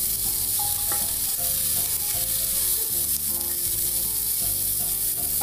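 Chopped onion and ginger sizzle and crackle loudly in hot oil in a pan, steady and close, with the scrape of stirring running through the frying.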